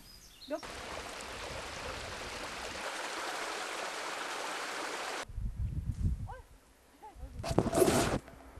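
Water rushes steadily in a stream beside a forest cabin, with wind, as a broad, even hiss. It cuts off partway through, leaving quieter rustling and outdoor sounds, with a short burst of noise near the end.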